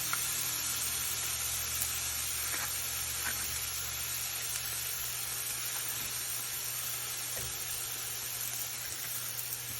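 Onions sizzling in a pan for a Philly cheesesteak, a steady close hiss with faint crackles that holds evenly throughout, no talking.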